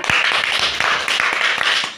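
Children clap in a game between teams, with short sharp claps repeating in a steady, fairly loud rhythm, roughly one burst every quarter second, close by and with no talk.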